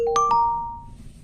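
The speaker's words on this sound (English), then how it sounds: "Oh, notification." A phone notification chimes with two quick bright ding tones that ring out and decay, close and clear, with no talking.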